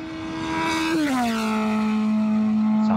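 A racing car sound effect from a coding block's built-in sound library plays alone: a loud, steady engine whine that drops in pitch partway through, like a car passing by, then holds a constant drone.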